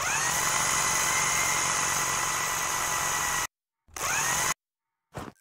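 Power drill whirring steadily as it drives screws during house construction in the video game House Builder, a long continuous buzz followed by two short bursts after brief pauses, loud and alone.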